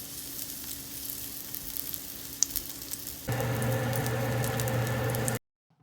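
Salmon fillets frying in hot oil in a pan give a loud, steady, dense sizzle that starts abruptly and holds at an even level before cutting off, with no talking.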